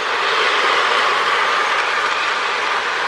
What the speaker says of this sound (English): This little switcher runs really good though, and it's also a good puller.